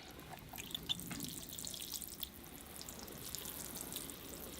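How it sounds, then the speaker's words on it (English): Water from a watering can pours steadily onto the soil of a sabre leaf ficus bonsai, a quiet continuous trickle and splash with faint dripping, heard close and alone. "I'll come in with the watering can and give it a good thorough watering"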